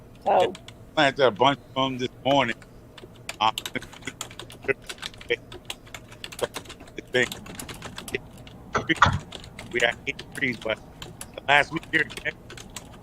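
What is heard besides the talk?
typing on computer keyboard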